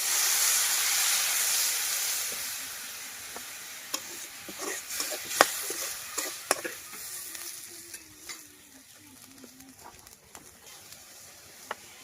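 Water poured into a hot pan of fried onions and green chilies, setting off a loud sizzle and hiss that fades gradually, with scattered stirring clicks and scrapes following.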